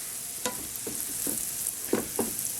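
Onions softening in butter over medium heat in a pan, a steady quiet sizzle under several distinct scraping stirs of a utensil, no voices.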